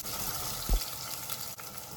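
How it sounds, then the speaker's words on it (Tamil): Chopped onion and fenugreek seeds sizzle steadily in hot sesame oil in a pan for a dry fish curry, a close, even frying hiss with one brief clink partway through. "வெங்காயம் வதங்கட்டும்."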